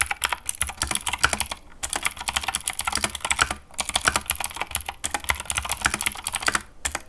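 Someone types on a mechanical keyboard with clicky switches, producing a fast, dense stream of sharp clacks with a few short pauses. The keys sound close and loud, and no talking is heard.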